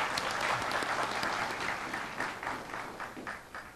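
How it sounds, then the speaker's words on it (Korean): An audience at a university entrance ceremony for new and transfer students applauds, a dense wash of many hands clapping that stays steady and then slowly thins toward the end, with no talk over it. "다시 한번 큰 박수 부탁드립니다."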